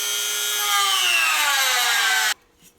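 A power tool cuts through a metal L bracket on an RC rock crawler truck, a loud steady high whine with a slowly falling pitch for over two seconds, then stopping abruptly into near silence.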